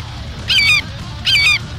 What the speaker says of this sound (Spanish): Un ave de rapiña, parece.